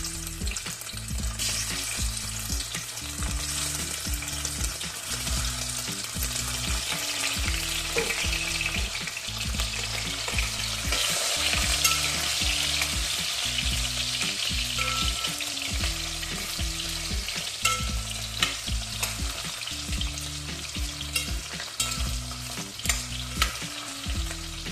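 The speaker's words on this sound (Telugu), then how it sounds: "ఇక్కడ పొటాటోస్ షాలో ఫ్రై చేసుకుంటున్నానండి." Baby potatoes shallow-fry in hot oil for a potato curry, giving a steady bright sizzle over a regular, repeating low clatter from stirring in the pan, with no voices.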